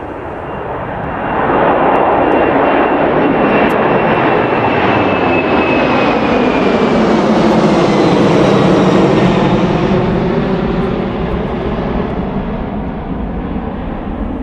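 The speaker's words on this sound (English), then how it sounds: "Look at this takeoff." An airplane takes off at Eastman's Airport: a loud, broad engine roar swells in after about a second and holds steady and powerful, with a thin whine sliding across it before easing slightly at the end.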